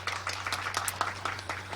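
Modest applause from an audience at a forum on revitalizing urban manufacturing and the sewing industry, a scattered clapping texture held steady at moderate level with a low hum beneath.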